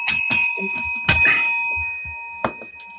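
A bright bell rings once with a sharp strike, its clear tone lingering and slowly fading, alongside brief voices before and after.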